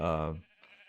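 A single sheep bleat from a flock of high-level sheep in CubeCraft SkyBlock, a short, loud wavering cry, followed by a quieter tail of faint game sounds.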